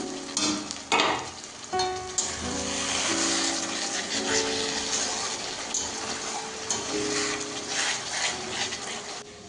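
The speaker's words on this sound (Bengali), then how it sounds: "দশ মিনিটের জন্য মশলাটা কষিয়ে নিব" Spice masala for duck curry sautéing in a pan, with uneven sizzling, stirring scrapes and clinks of a utensil against the pan, moderately quiet and close.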